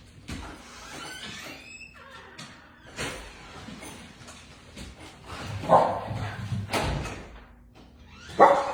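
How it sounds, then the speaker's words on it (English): Small dog barking at a window from indoors, with several sharp barks and yips spread irregularly over the stretch amid quiet household shuffling, the loudest bursts near the middle and end. "he likes to bark at the window at her"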